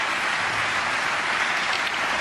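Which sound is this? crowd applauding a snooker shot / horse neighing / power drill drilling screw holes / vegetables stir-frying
crowd applauding a snooker shot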